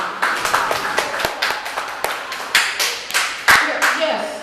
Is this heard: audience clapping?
yes